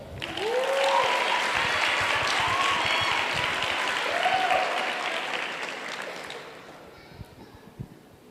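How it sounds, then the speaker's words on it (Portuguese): A church congregation breaks into loud, sustained applause that rises quickly, holds for several seconds, then fades to a few scattered claps. "Salva de palmas para ela."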